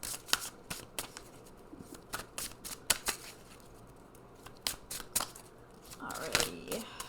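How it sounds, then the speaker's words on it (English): A deck of oracle cards is shuffled by hand, giving quiet, close, irregular riffling flicks and sharp snaps spread across the stretch, with a soft crinkle near the end. "finally we will pull some of these color cards"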